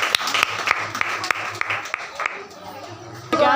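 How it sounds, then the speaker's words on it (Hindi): A church congregation claps during a thanksgiving, with sharp separate claps that come and go quickly under a speaking voice and then fade to quiet near the end. "जोरदार तालियों के साथ धन्यवाद दीजिए।"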